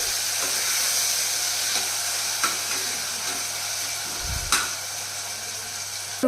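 Chopped onions and tomatoes sautéing in a pan for a horse gram (kulthi) curry, a steady loud sizzling hiss with a low hum underneath and a few sharp spoon scrapes, no talking.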